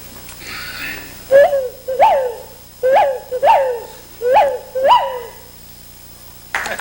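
A voice imitates a whippoorwill, whistling the call five times in a steady rhythm, each a rising-falling tone phrase, close and clear before a studio audience.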